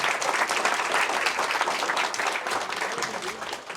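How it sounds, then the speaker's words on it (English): An audience at a high school applauds guest speakers, with dense, loud clapping throughout that thins slightly toward the end. "Can everybody please give a round of applause to all of our guest speakers for today?"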